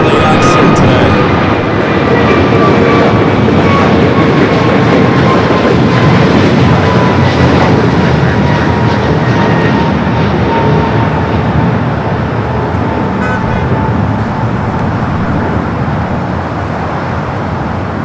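An Air France airliner at Los Angeles LAX gives off a loud, sustained jet roar with whining engine tones that slide gradually downward as it passes, fading slightly toward the end.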